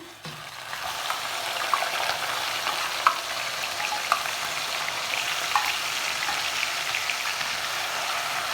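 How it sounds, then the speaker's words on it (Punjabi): Onions fry with whole spices in a pan for a mushroom and pea masala, making a steady, fairly loud sizzle with a few faint stirring clicks and no talking. "ਪਿਆਜ਼ ਜਿਹੜੇ ਹਨ ਜੀ ਇਹਨਾਂ ਨੂੰ ਅਸੀਂ ਭੁੰਨਾਂਗੇ ਦੋ ਚਾਰ ਮਿੰਟ"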